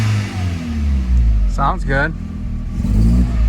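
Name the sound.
Mk4 Jetta 1.8T engine revving with blow-off valve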